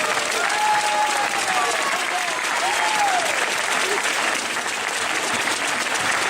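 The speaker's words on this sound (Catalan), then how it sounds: "Un aplaudiment per la Cristina" Crowd applause in Girona for Cristina at the Special Olympics torch arrival, a loud unbroken stretch of clapping with a few cheering voices rising through it.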